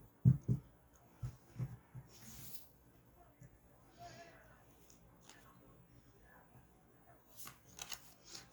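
Tarot cards are shuffled and drawn in quiet, soft scattered riffles and flicks with short pauses between them, faint and close, separated by stretches of near silence.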